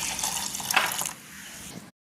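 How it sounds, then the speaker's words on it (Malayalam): Water poured into a blender jar holding carrot, gooseberry and lemon juice for a juice: a close, splashing pour for about a second that eases into a quieter trickle, then stops. "ആവശ്യത്തിനുള്ള വെള്ളവും കൂടെ ചേർക്കാം"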